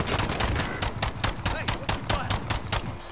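Rapid automatic gunfire in Call of Duty: Warzone, a steady loud stream of shots with a few bursts in a quick, regular rhythm, with a voice faintly underneath.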